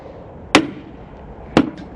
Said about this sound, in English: Take your hammer and give it a good whack.